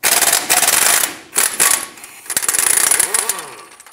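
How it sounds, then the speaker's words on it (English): A socket tool with a 24 millimeter socket loosens the caliper bracket bolts on the front brake knuckle of a 2008-2010 Ford F-450 Super Duty, giving loud, close bursts of rapid rattling separated by short pauses. "Use a 24 millimeter socket and remove these two bolts that hold the caliper bracket onto the knuckle."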